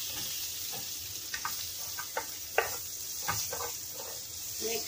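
Pork with tukwa stirred and fried in a pan, a steady sizzle with scattered scraping clinks of the utensil against the pan as it is mixed.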